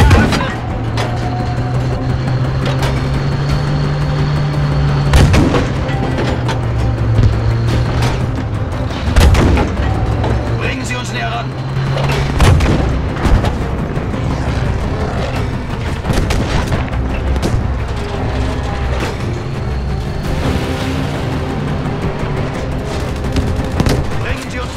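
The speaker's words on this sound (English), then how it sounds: "Feuer auf das Ziel, eröffnen!" Battlefield V prologue combat with loud, dense gunfire and booming artillery blasts through the whole stretch, sharp bursts over a steady rumbling battle bed, with shouted voices in German in the mix.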